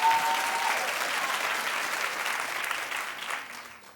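Studio audience at a daytime talk show breaking into loud, sustained applause that holds steady for about four seconds before thinning slightly at the end, with no talking over it.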